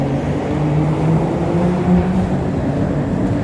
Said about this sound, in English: This bridge makes way too much noise. Not just the cars going over it, but the metal clanking as you walk by it.